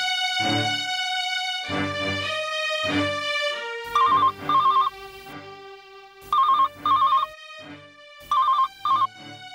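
A telephone rings in repeated double bursts, loud and close, with quiet pauses between rings and a few musical tones earlier.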